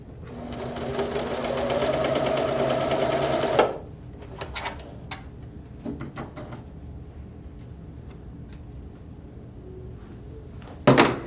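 A sewing machine runs a quilt seam in one steady, fast whirring burst for about four seconds, then stops; handling clicks follow and a short final run ends it.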